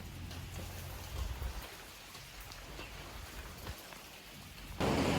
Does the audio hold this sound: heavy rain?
yes